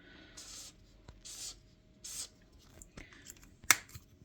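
A double-sided felt-tip marker with a thick tip scratches across paper in short, close strokes. The rubbing bursts are separated by small taps and one sharp click, with no talking.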